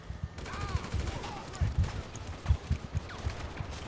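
Rapid bursts of SMG gunfire in a video game, fairly quiet and choppy, coming in clustered pops over a couple of seconds, with a voice talking in the background.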